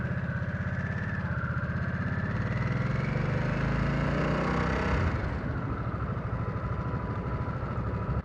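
A Harley-Davidson Nightster with a Revolution Max engine revs up and rides off, a loud, close engine note rising in pitch before easing back as it pulls away.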